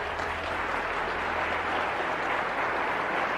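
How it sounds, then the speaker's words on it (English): A large audience claps in sustained, dense applause at a motivational talk, steady and moderately loud throughout with no break. "Yeah, you can applaud."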